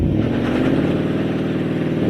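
A 2022 Ford Mustang Mach-1's V8 engine revs hard during a front-brake burnout, a loud, close, continuous throaty roar with a pulsing rhythm that holds steady, with no talk.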